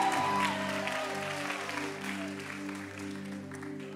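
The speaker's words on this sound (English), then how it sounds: "you guys get to cheer, okay, and celebrate Bethel Church" Congregation at Bethel Church cheering and applauding during a service, a broad wash of clapping that starts strong and slowly thins over steady sustained worship music.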